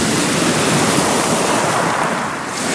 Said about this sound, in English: Waves are just pounding today.